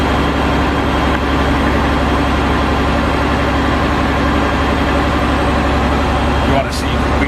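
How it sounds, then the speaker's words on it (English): A large diesel rescue truck engine runs at a steady high idle, a loud continuous rumble close by with a brief higher whine near the end. "my engine comes up to high idle"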